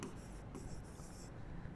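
Marker or chalk writing an equation on a classroom board, faint scratchy strokes in short bursts with small pauses, quiet and close, no talking.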